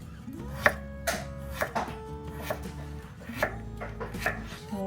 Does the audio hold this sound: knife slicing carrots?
yes